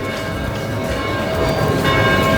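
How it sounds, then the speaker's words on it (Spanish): Church bells ring out with sustained, overlapping metallic tones, swelling slightly louder toward the end, heard outdoors in a town square in Kotor, Montenegro, amid a steady background hum. "desde que entramos suenan diferentes campanas"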